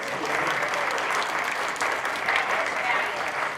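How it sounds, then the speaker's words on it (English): An audience at a Newmarket master plan vision-setting meeting applauds warmly for several seconds, a steady wash of many hands clapping with a few voices mixed in. "how about a great round of applause for Amy and her gang?"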